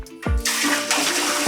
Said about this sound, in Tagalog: Dito yung tubig sa bidet.